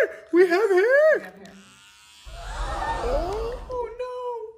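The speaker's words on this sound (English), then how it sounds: "Oh no, not the shaver." An electric shaver starts up partway through with a continuous mid-pitched buzz after a burst of excited voices, running steadily to the end while a voice talks faintly over it.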